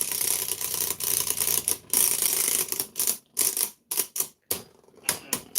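Beyblades spin and grind against each other at full power in a game-show battle, a dense, loud, rattling metallic clatter that breaks into choppy bursts near the end.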